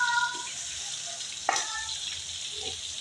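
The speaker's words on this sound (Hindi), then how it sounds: "चिकन और प्याज मैंने इकट्ठा फ्राई करना है।" Chicken and onion fry together in a kadai, a soft continuous sizzle with a sharp utensil clank midway, no talking.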